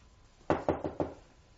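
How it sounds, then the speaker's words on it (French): Four sharp knocks on a door leading onto a small service courtyard, evenly spaced and moderately close, with no voices. "On frappait à la porte qui donnait sur la petite cour de service."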